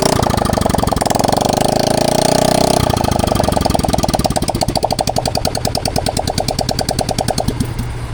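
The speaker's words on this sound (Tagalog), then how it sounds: "Mandar yung motor ni tatay." A father's motorcycle engine running after a roadside repair, revving loudly at first and then settling into a steady, throbbing idle with rapid regular pulses, close up and alone.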